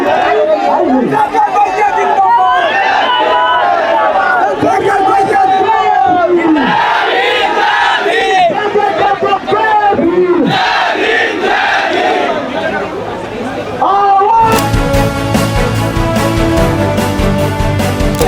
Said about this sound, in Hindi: जय भीम के नारे लग रहे हैं यहाँ पर